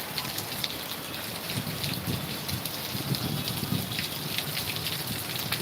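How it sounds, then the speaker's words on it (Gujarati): Steady rain pouring down in Rajkot with a broad hiss and patter, gusty wind blowing through it, continuous and fairly loud with no voices. "પવન સાથે વરસાદ આવી રહ્યો છે"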